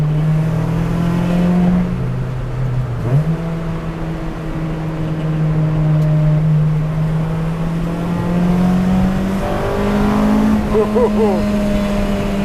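Acura RSX built for track use, heard from inside the cabin as it pulls through third gear, its engine droning steadily and loudly as the revs climb and harden into VTEC near the end.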